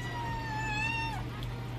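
A two-month-old kitten gives one drawn-out, rising-then-falling meow over a steady low background hum, close and fairly clear.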